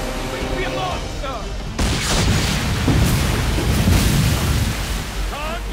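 Ship cannon fire in the Assassin's Creed 3 naval battle at Fort Wolcott, a loud booming barrage with rumbling blasts and crashing water, while a game voice calls out and brief whistling tones sound at the start and end.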